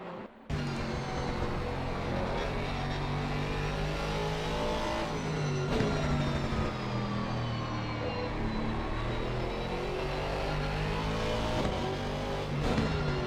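Aston Martin GT3 race car in the Assetto Corsa Competizione racing game at Zandvoort, a loud, steady engine howl that climbs and drops through gear changes for the whole stretch, heard from on board, with no talk.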